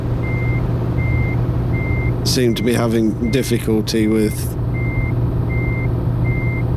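Steady reversing beeps from a MAN truck backing a trailer in Euro Truck Simulator 2, repeating evenly over a constant engine hum while someone speaks briefly in the middle.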